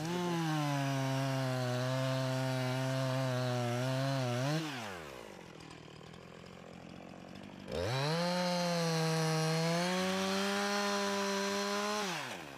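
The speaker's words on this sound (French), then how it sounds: "j'insère la scie derrière la charnière et je scie à l'arrière" A chainsaw cuts into a tree trunk from behind the hinge, loud and close, its engine pitch sagging and rising as it bites into wood, pausing briefly in the middle before revving back into the cut.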